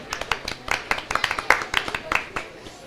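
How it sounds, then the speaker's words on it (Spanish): Scattered applause from an audience at a live quiz-style talk, a quick irregular patter of claps lasting a few seconds with voices mixed in. "Un aplauso"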